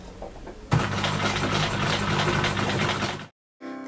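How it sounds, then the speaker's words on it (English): A sewing machine stitches a seam on denim jeans, running steadily for about two and a half seconds and then stopping abruptly. "So let's just start sewing"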